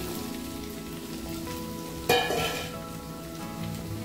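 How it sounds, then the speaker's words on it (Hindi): Cut potatoes drop into a pan of frying green chili masala, setting off a sudden loud burst of sizzling partway through over a steady background fry that then settles back to a constant crackle. "तो अब डाल देंगे ये कटे हुए आलू"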